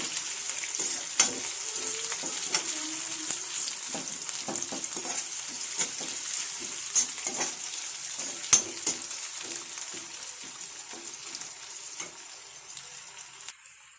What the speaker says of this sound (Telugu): వీటన్నింటినీ మనం బాగా కరి అలాగా మిక్స్ చేసుకోవాలండి కాసేపు ఫ్రై చేసుకోవాలి